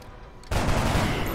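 A burst of video game gunfire from XCOM Long War erupts halfway through, a loud dense rattle of shots that continues to the end after a quiet opening.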